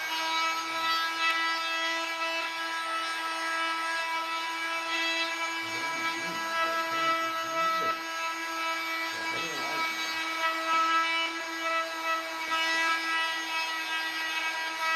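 A power sander buzzes steadily on a wooden rifle stock being finished, a close, continuous whine that runs through the whole stretch, with a couple of brief low rumbles partway through.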